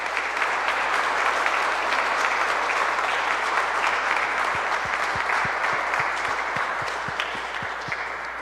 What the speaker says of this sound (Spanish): vamos a darle un aplauso desde aquí